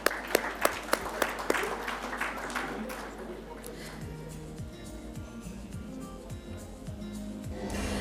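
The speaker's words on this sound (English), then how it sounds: "Can we have huge round of applause for them?" Applause from an audience at a business forum, a scattered crowd clapping that fades into a steady murmur of room noise, with a few sharp claps at the start, fairly faint and distant.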